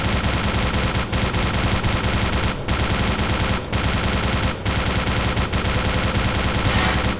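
Sustained automatic gunfire in the video game Black Mesa, loud and continuous rapid bursts with a few brief pauses, no talking.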